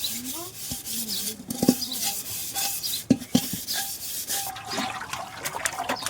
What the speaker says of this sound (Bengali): তো হাঁড়িটা আগে মাজি তারপরে কড়াইটা বাজবে